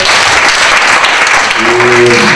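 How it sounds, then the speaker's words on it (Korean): An audience at a community-building network meeting applauds loudly, a dense, steady wash of clapping that fills the whole moment, with a voice briefly heard over it near the end. "다시 한번 큰 박수 부탁드릴게요."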